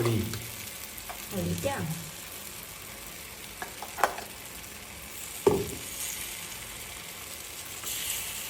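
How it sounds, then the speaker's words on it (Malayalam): Batter poured into a hot pan gives soft bursts of sizzle, with a few sharper hits and pan clatter over quiet kitchen background. "നമുക്ക് നമ്മുടെ ബാറ്റർ ഒഴിച്ചു കൊടുക്കാം"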